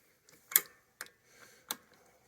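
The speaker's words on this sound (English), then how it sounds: "It's a noisy old torque wrench." An old, noisy torque wrench on an Aprilia motorcycle clutch job gives three sharp metallic clicks spaced roughly half a second apart, close and fairly quiet in an otherwise still workshop.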